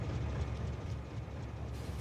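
A train in the Factorio video game rolls along its track with a steady low mechanical rumble and faint rattling, continuous and even for about two seconds, with no talking.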